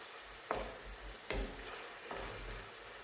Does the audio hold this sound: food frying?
yes